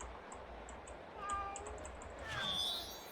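A cat meows in Lego Harry Potter Years 1-4, two short, fairly clear meows in the middle and toward the end over a low game background hum with faint chimes.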